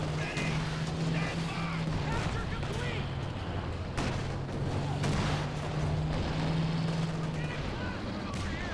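Anti-tank guns fire in the Company of Heroes 2 strategy game, a string of booming shots and battle noise scattered through the stretch, mixed under a steady, excited commentator's voice.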